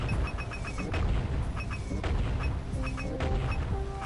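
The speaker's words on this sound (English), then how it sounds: "So there seems to be no way to blow that up with this cannon" Cannon blasts in the video game Jak and Daxter, several heavy booming shots spaced about a second apart, loud and close over steady game music and ambience.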